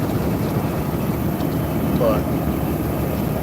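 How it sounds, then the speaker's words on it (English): Rough, uneven engine rumble from a vehicle with a clogged muffler, a steady loud low drone filling the whole stretch while a voice speaks briefly over it. "I think it's running a little bad. I think that that muffler's a little clogged."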